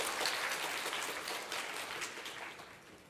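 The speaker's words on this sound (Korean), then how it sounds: "큰 박수로 맞이해 주세요." Audience at a PyCon Korea 2019 lightning talk session applauds to welcome a speaker, a broad wash of clapping that slowly fades toward the end.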